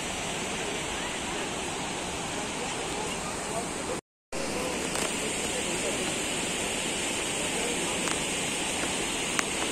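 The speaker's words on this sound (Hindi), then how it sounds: "फ्लो देख रहे हो पानी का?" A fast-flowing stream on a mountain trek near Yusmarg, Kashmir, rushes in a steady, loud, broadband roar close by, unbroken except for one brief dropout.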